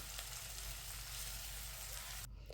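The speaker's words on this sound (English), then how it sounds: "I'll stir fry it until it's nice and sizzling" Faint, steady sizzling of onions stir-frying in hot oil, a soft continuous crackle with no talking.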